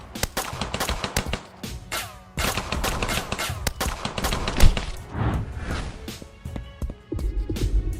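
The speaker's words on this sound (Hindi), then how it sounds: "आरव के आदमी मेहुल के ऊपर फायरिंग कर देते हैं" Rapid bursts of gunfire as men shoot at Mehul, dense overlapping cracks and shots packed across the whole stretch, loud and close with no voices.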